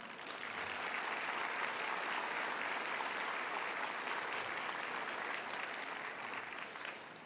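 Sustained applause from a large crowd at a pavilion grand opening and parade ground dedication honouring veterans and military, even and continuous for several seconds, somewhat distant and moderate in level.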